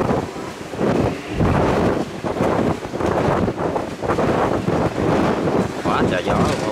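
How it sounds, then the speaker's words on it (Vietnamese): Strong storm wind at sea buffets a barge and batters the microphone in loud, uneven gusts that roar and surge continuously without pause. "Quá trời gió luôn các bạn."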